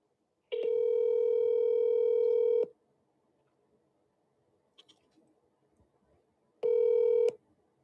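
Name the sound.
telephone dialing and ringing an outgoing call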